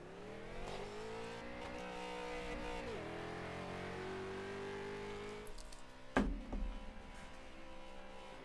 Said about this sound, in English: Get some burnouts with the camera there, Hunter.